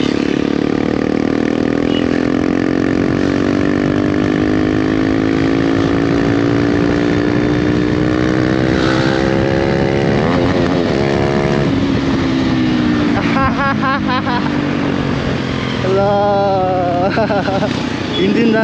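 A KTM Adventure 250 supermoto fitted with a Yoshimura full exhaust system roars loudly and up close, its engine revving steadily up and down with rising and falling pitch throughout, while people talk beneath it.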